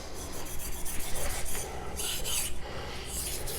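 Rhythmic rasping strokes of a ZDP189 steel knife blade drawn across synthetic whetstones, close and clear, repeating in quick back-and-forth passes with no talking.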